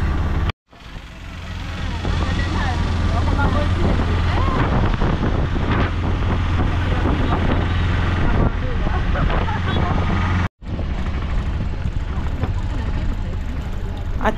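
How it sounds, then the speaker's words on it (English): A boat engine drones steadily and loudly, with heavy wind buffeting the microphone and water noise around it, and two brief cutouts break the sound. "we are right now competing with the engine sound"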